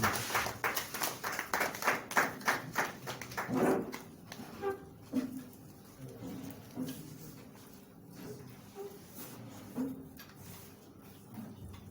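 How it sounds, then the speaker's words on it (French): An audience at a book launch event claps in a burst of rhythmic, fairly close applause that fades into scattered, sparser claps and faint murmurs. "que je vous prie d'applaudir très très fort"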